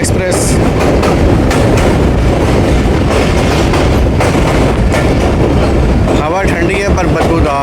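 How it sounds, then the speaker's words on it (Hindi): The 13 Up Awam Express rumbles along loud and steady as it crosses near the Ravi River on the Lahore to Attock run, with continuous wheel and rail clatter and a few faint squeals near the end. "चलें जी, रावी रिवर से पास होगी हमारी ट्रेन अब"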